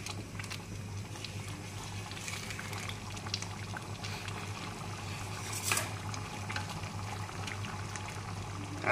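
Chana dal simmering in a cooking pot: a quiet, continuous bubbling with soft irregular pops and a faint low hum beneath, with no talking.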